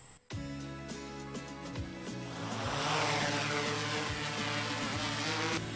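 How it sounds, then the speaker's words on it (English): A research drone flying above a beech forest returns overhead, its propellers whining in layered, sustained tones that rise and grow louder and closer toward the end. "the drone is on its way back and it should be landing pretty soon"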